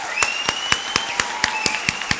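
An audience claps in steady, synchronized rhythm, sharp evenly spaced claps about four per second, alongside bright tonal music as speakers come onto a stage at a Paris fireside talk.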